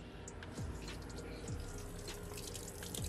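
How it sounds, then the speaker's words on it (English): A home bathtub drains, a continuous watery gurgle with small drips and periodic bubbling glugs, close and fairly quiet with no talking. "The water's about to come out."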